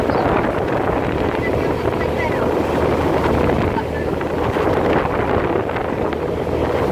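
Passenger ferry crossing from Korčula to Orebić, heard as a dense, steady rumble of engine, water rush and wind buffeting the microphone at the bow, continuous and loud throughout.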